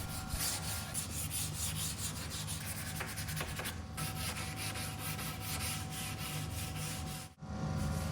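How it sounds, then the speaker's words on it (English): Continuous sanding on a mid-century wood dresser, an even, steady abrasive rubbing that runs close and loud with no pauses except a brief dip near the end. "As I finish up with all the sanding,"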